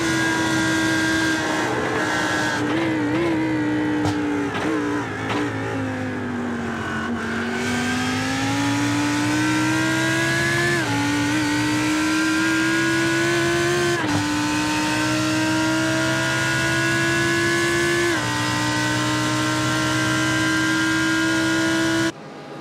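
Onboard engine of a Lamborghini race car in the SP9 class on the Nürburgring in a sim-racing endurance race: a loud, continuous high-pitched engine roar, rising through each gear with brief dips at the shifts, heard alone.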